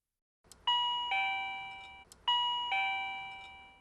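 A neighbour's doorbell rings twice, each a clear two-tone electronic chime whose notes ring out and decay, heard indoors and fairly quiet with near silence between.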